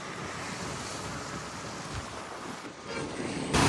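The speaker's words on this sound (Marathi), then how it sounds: "हा पाण्याचा तुम्ही आवाज बघू शकता की काय फ्लो आलाय" Constant heavy rush of water pouring over a full dam near Chiplun in the rain, a broad roaring wash with wind buffeting the microphone.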